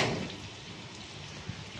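Heavy rain pours down steadily under dark monsoon clouds, a dense wash of drops on surfaces with one brief knock partway through and no voices.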